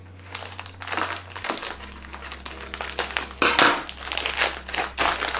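Crinkly, crunching snips and tearing as scissors cut open tightly glued stiff packaging, a run of irregular close bursts with a sharper, louder cut near the middle.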